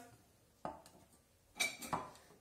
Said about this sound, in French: Donc on prend une casserole